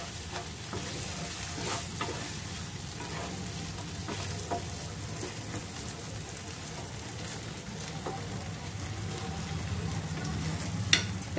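Boiled peas, still a little wet, go into frying masala for a spicy peas paneer curry and are stirred. A steady close sizzle runs throughout, broken by regular scraping stir strokes and small ticks from the pan.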